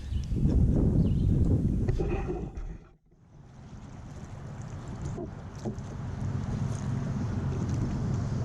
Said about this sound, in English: I do have some wind blowing against me